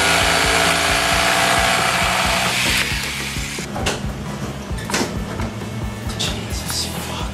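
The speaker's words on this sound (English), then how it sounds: "You cut it with the sawzall, he can glue the piece back on afterwards." A reciprocating saw cuts through material in a loud, continuous buzzing burst that drops into rougher, uneven rasping and knocking partway through.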